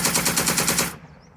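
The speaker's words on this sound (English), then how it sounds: "he has got a turret-mounted machine gun" A turret-mounted machine gun fires a single rapid burst in the war game Second Front, loud and close with evenly spaced rounds for about a second before cutting off into quiet.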